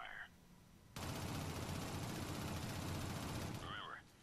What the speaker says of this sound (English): Now shoot at the troll again.